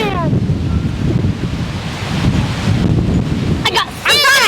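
Gusty wind buffets the microphone on a beach, a steady low rumble of wind noise throughout, with a voice briefly talking near the end.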